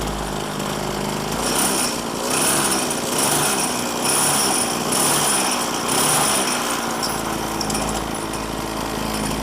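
Small engine with a homemade centrifugal clutch, mounted on a bicycle, buzzes loudly nearby, its high-pitched drone swelling and easing in repeated pulses as the throttle rises and falls.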